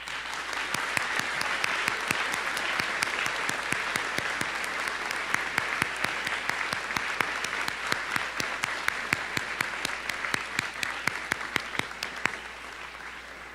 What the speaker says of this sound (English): let's please give these families a round of applause